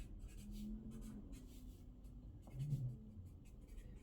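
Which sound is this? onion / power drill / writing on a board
writing on a board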